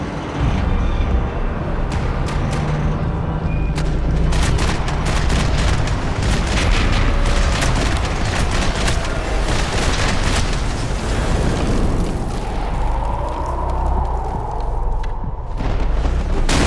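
Loud, dense gunfire from a Max Payne 3 shootout, with booming blasts and heavy rumble running continuously throughout, building into a chaotic, sustained wall of battle noise.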